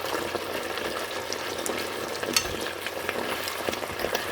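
Beef with beans and pechay cooks in a pan, giving a continuous moderate sizzle with light clicks and scrapes from stirring close by, and no voices.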